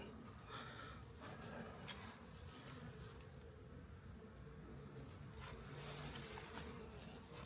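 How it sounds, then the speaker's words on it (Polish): A steady, dense buzz of many bees flying around heated hives in the open at about 14 degrees in winter, a continuous hum with faint outdoor noise and no voices. "Pszczoły latają."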